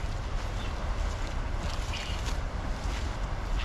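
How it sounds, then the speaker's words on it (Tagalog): Strong river current rushing steadily, a dense continuous roar of flowing water with wind buffeting the microphone, no voices over it. "Maririnig po ninyo sa lakas ng agos ng tubig"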